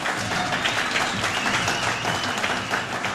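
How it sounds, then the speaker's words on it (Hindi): Dense, continuous applause for cricketer Imad Wasim during PSL 9 coverage fills the whole stretch at a steady, loud level, with no gaps and crowd noise blended into the clapping. "तालियां इमाद वसीम के लिए"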